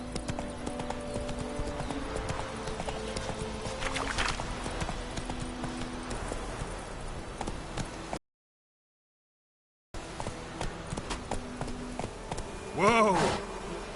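Roach the horse's hooves clip-clop at a steady walking rhythm in The Witcher 3, close and continuous, with a gap partway through and a brief whinny-like sound near the end.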